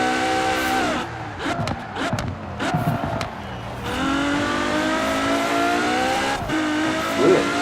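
A KTM X-Bow GT4 race car in Forza Horizon 4 revs hard and loud, its engine pitch climbing and dropping through gear changes, with brief clunks and a tire squeal near the end.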